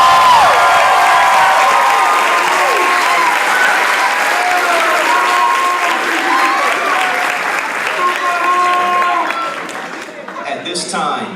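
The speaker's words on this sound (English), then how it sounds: "Please give our soon-to-be graduates a round of applause." A crowd at the Camden Big Picture Learning Academy class of 2018 graduation ceremony applauds the graduates with sustained, dense clapping, mixed with scattered cheers and voices, tapering off toward the end.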